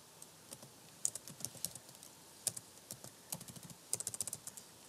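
A comment being typed on a computer keyboard: bursts of close, crisp keystrokes, some single and some in quick runs, with short pauses between and no speech.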